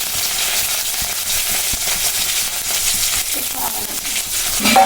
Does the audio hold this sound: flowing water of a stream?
no